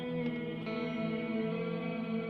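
Sloer Stereo Ambient Reverb pedal with slowed square-wave modulation, a sustained shimmering wash of layered tones that wavers steadily, with a couple of faint transient clicks early on.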